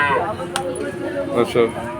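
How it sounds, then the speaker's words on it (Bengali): Cattle low and moo at the busy Chuknagar cattle market, several close calls overlapping amid crowd chatter and background market noise. "এই যে গরু অনেক গরু ওখানে এই নিয়ে আসতেছে"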